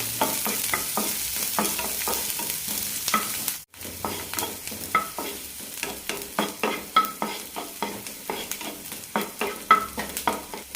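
Mustard seeds and sliced onion sautéing in a teaspoon of oil, a close sizzle with a steady run of rhythmic spatula scrapes and taps, a brief pause early on, then stirring resumes.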